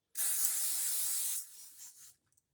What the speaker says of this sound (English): We got a hairspray.